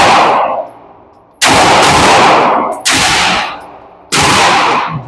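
Ported Canik pistol gunshots, three loud sharp cracks roughly a second and a half apart, each with a booming tail that fades before the next, close to the listener.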